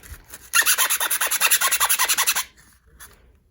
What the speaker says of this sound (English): And I'm sanding.